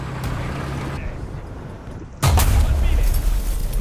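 A Soviet tank's cannon shot strikes from behind in a tank battle game, landing as a sudden loud, deep boom that cuts into quieter engine rumble and stays as a heavy roar.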